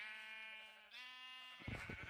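Minecraft sheep bleating in a game, a drawn-out wavering bleat that shifts pitch midway, followed by softer rustling thumps, with no voices present.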